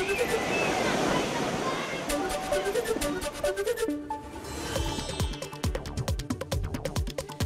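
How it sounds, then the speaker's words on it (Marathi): Savatkada waterfall plunges from hundreds of feet, a broad steady roar of falling water filling the first half, then fading into scattered splashing and clicking sounds. "शेकडो फूट उंचावरून कोसळणारा धबधबा पाहण्यासाठी राज्यभरातून पर्यटक रत्नागिरी"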